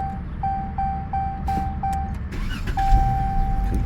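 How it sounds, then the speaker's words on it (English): A Dodge Challenger engine idles and revs after a fresh throttle body and MAF sensor cleaning, a steady low rumble running throughout with a repeating high-pitched electronic tone chiming over it. "I'll give it one more start and then I'm gonna take off"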